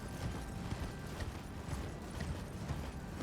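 Faint, steady clip-clop of a horse galloping in the game Elden Ring, an even rhythmic patter of hooves under a low background rumble.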